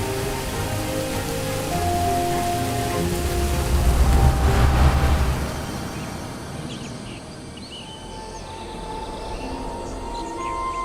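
Red rain falling in an animated film, a steady broadband wash of heavy rainfall that swells louder midway and then settles into a softer, continuous patter with faint background tones.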